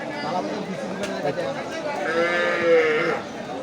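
Cattle low and bellow amid a busy crowd of voices and general chatter at a rainy cattle market, close by and fairly steady throughout.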